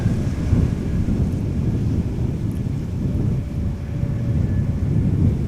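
Wind buffets a camera microphone outdoors at Amsterdam Schiphol Airport, making a loud, continuous low rumble that surges and dips throughout with no voices.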